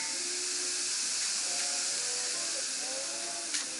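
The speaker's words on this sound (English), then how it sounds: "The air is bleeding out of my fittings here" Compressed air leaking from the fittings of a vintage Champion compressor, a loud, steady, close hiss that continues throughout, with faint tonal hums underneath.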